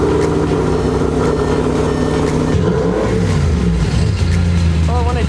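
A wrecked Audi RS5 fitted with a new aftermarket exhaust runs loud and close, its engine rumbling and revving in swells, with voices talking over the top.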